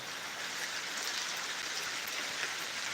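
Heavy rain falls on trees and leaves beside a government college garden in Satkhira, making a dense, even, continuous hiss of drops at moderate distance, with no talk.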